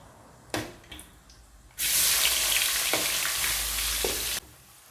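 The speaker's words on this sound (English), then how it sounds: "Onion should be fried till it become golden brown." Chopped onions hit hot oil with whole spices such as cinnamon sticks for Chennai-style chicken biryani, bursting into a loud, close sizzle that holds for a few seconds and then cuts off. A few light clinks come before it.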